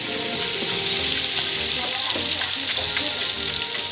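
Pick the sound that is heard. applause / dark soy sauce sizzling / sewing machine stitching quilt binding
dark soy sauce sizzling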